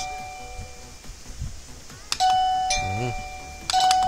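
An electronic doorbell chimes twice, loud and close, each ring a bright ding-dong tone that sustains, with faint room noise before it.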